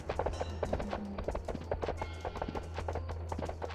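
Horse hooves clip-clopping in the video game Ninja: Shadow of Darkness, a rapid, steady run of hoofbeats over a low hum, with no talk.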